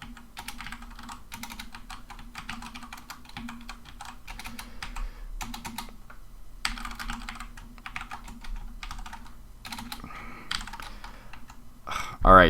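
Steady, rapid typing on a compact computer keyboard rattles on for several seconds, close and moderately loud, in short bursts with brief pauses, and faint talk sits quietly beneath the keystrokes.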